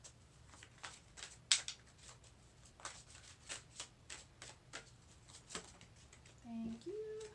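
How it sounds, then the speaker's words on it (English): Tarot cards being shuffled by hand, a steady run of crisp riffling flicks and soft slaps, close and fairly quiet, with a brief faint voice near the end. "Once I'm done shuffling, I'm going to angle the camera down so you can see all the cards."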